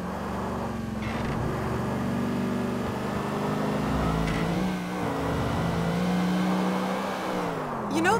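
A car engine in Grand Theft Auto IV drives and revs continuously, its pitch rising and falling with repeated throttle surges and gear changes, loud and close, with a faint tire squeal.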